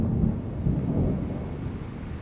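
Thunder from a lightning strike grumbles low and steady, a short deep roll fading over a couple of seconds with no voices.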